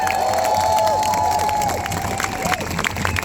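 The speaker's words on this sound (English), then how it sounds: "Please continue that applause" A protest rally crowd applauds and cheers loudly, a dense wash of clapping with whoops and shouts rising above it, continuous throughout.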